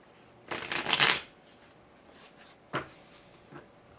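A deck of cards being shuffled during a tarot-style reading, a close riffle burst followed by two quick, softer shuffles in a quiet room.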